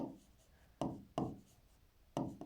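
Pen or pencil writing a maths verification step by hand, with several short, close strokes and taps on paper separated by brief pauses.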